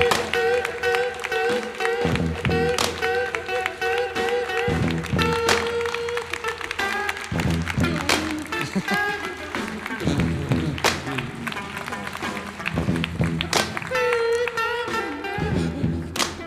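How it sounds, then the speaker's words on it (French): An audience at an awards night for an international fantasy film festival keeps up clapping through the whole stretch, dense and loud, joined by scattered thuds and a layer of music or voices underneath. "Allez-y, applaudissez-les."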